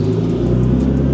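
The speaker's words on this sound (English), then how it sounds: "So we're gonna give this thing one more start, last little start." Nissan Skyline R34 GT-T engine idling steadily after a start, a continuous low rumble with even throb, close and loud with no talk over it.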